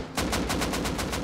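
Rapid automatic gunfire in the survival game Rust, about eight evenly spaced sharp shots in a quick burst, close and fairly loud with no talk over it.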